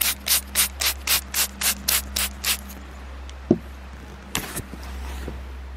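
Rhythmic rasping strokes, about a dozen in a row, as a repair plug is forced into a very tight hole in a tire, then a few scattered clicks and knocks over a steady hum.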